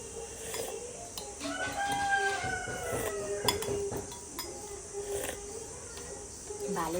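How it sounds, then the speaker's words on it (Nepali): A household rooster crows in a long, drawn-out call that rises and falls at mid distance, set against a steady hiss of insects and faint background activity. "भाले त फेरि कराएको करै हो"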